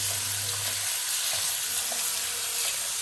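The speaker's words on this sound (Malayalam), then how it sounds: "നമ്മളിതാ എണ്ണ അടുപ്പത്ത് വെച്ചു. എണ്ണ ഇതാ ചൂടായി വരുന്നുണ്ട്." Oil heating in a pan on a stove top before cooking moringa leaves, giving a continuous close hiss and gentle sizzle with faint crackles and no voices.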